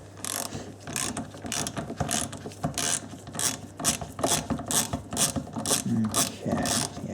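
A hand ratchet loosens a tight size 40 Torx screw on an Audi A4 (B6/B7) wing mirror, giving a steady run of quick metallic clicks in short repeated strokes, close and fairly loud.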